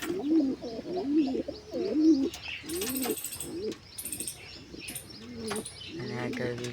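Pigeons coo in repeated low, throaty bursts at close range, with light chirps and a brief wing flutter mixed in and a voice talking faintly in the background.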